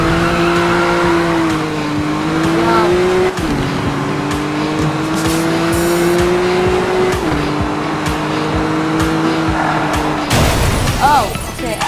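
Cars race in the video game Need for Speed Rivals, with a steady loud engine drone that shifts pitch with gear changes, a brief tire-squeal flourish near the end, under occasional talk.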